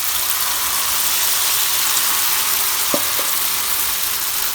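Jamaican flour fritters fry in hot oil with a loud, steady hiss and crackle, broken by a couple of brief clinks partway through.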